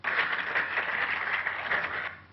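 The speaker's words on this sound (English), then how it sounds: "applause" Synthetic applause texture generated from noise: a steady flurry of overlapping hand claps forming a crowd-like patter, holding constant loudness before tapering slightly at the end, with no talking.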